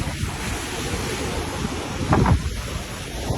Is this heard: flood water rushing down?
yes